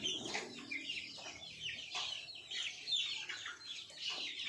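Chickens cluck repeatedly in a flock near a cage outdoors, a continuous chatter of close, moderately loud calls with no talking.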